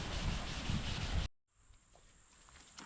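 A plastic headlight lens is hand sanded with 1000 grit sandpaper in close, steady rubbing strokes that cut off abruptly, followed by a faint hiss and quiet.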